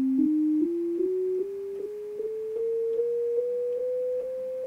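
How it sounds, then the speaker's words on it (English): Electronically generated sine tones spliced into a non-Pythagorean scale, about a dozen clean, steady pitches stepping slowly upward one after another at an even pace, each one slightly higher than the last. "Generated these tones and made a scale out of them just by splicing them together in an audio program."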